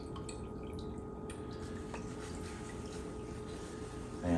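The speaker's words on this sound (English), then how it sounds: "there's some juice coming out of the bag" Blueberry juice drips from a bag of crushed fresh fruit while homemade wine is being made, a steady faint trickle and patter of liquid throughout with a slightly louder splash near the end.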